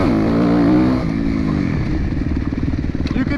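A Suzuki RMZ250 motocross bike engine revs loudly, its pitch climbing then dropping back into an uneven, throbbing idle, heard close.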